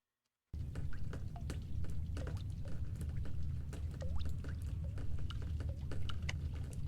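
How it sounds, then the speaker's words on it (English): Water leaking through the ceiling in The Stanley Parable video game, a steady trickling and dripping wash with scattered bright drops over a low rumble. It starts abruptly after a moment of silence and continues throughout. "I hear water?"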